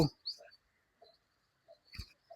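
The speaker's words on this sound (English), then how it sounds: "It's a crow, big crow." A large crow at a bird sanctuary in Uppalapadu gives a few short, scattered calls with quiet gaps between them. The sound is outdoors and fairly faint.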